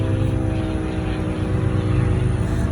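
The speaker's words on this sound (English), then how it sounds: "Now I think that's a helicopter." Aircraft flying overhead, heard as a continuous loud droning engine roar with steady rotor-like pulsing, close and unbroken for the whole stretch, with no talking.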